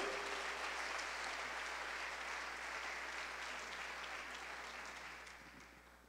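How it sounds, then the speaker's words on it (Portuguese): A church congregation claps loudly and steadily in dense applause, which carries on for several seconds before gradually fading toward the end. "Dê uma forte salva de palmas a Jesus"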